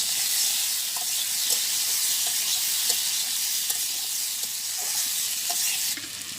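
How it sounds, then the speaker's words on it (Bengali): Spices sauté in hot oil in a pan in a village kitchen, giving a continuous bright sizzle and hiss with faint stirring scrapes throughout, close and steady. "তো সুন্দর করে কষাই নিলাম তেল দিয়ে"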